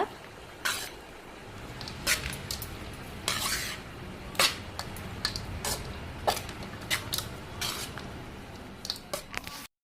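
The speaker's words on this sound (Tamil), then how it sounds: "இப்போ நாம் தாளிப்பை கொட்டி லெமன் சாதம் தயார் பண்ணிடலாம். இதை நல்லா மிக்ஸ் பண்ணி விட்டுக்கோங்க." A spoon stirs lemon tempering through cooked rice in a pot, giving irregular metallic clinks and soft squishy scrapes that repeat close by for several seconds, with no talking.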